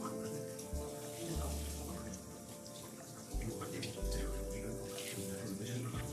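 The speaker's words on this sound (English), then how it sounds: "Now we're going to get all of his fur wet." Water runs and splashes over a dog's fur during a bath, a steady wet rush close by with a few dull low thumps mixed in.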